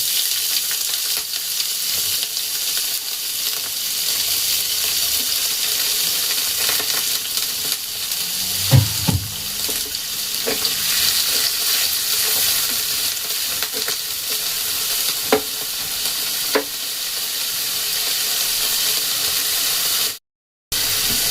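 Chopped onions sizzle loudly in hot oil in a pan while making cashew butter paneer, a steady dense frying hiss throughout with a few brief stirring clinks, then a short cut to silence near the end.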